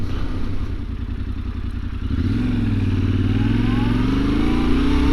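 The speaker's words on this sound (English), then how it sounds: "The exhaust note is so good if it were only just a little bit louder." A 2019 Yamaha Grizzly 700 engine idles with a rapid, uneven putter, then revs up into a steady, louder exhaust drone that holds for several seconds.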